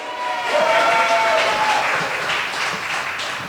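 Theatre audience applauding the mayor at a historical tribute event, a steady, full wash of clapping and crowd noise that stays loud for the whole stretch.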